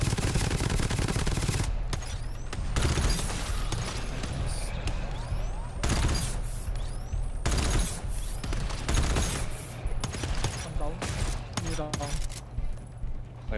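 Gunfire in the co-op shooter GTFO, with dense bursts of rapid shots and loud cracks over background game music. A voice talks briefly.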